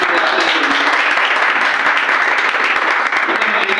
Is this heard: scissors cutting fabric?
no